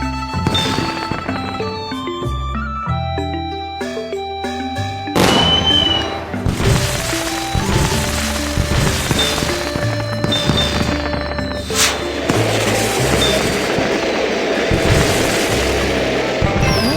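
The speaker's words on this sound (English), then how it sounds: "Tap here and you'll see an amazing fireworks display." Cartoon fireworks burst and crackle in the Baby Panda's Chinese Holidays game. A sudden boom is followed by repeated pops and a fizzing shower, all under bright, continuous game music.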